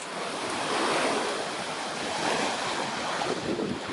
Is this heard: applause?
no